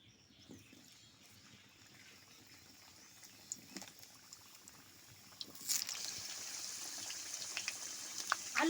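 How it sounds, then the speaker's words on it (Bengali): Potatoes go into hot oil, starting with a quiet low bubbling that breaks into a louder, sharp sizzling hiss partway through and keeps crackling to the end. "দিয়ে দিচ্ছি তেলের মধ্যে আলু।"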